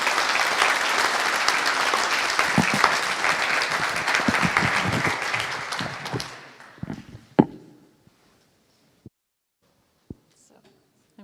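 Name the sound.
audience applause for a speaker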